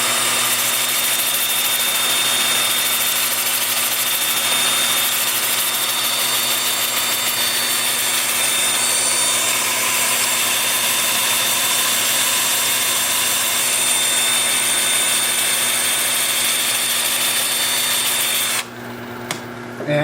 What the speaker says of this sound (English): with the lathe spinning in reverse at about 400 RPM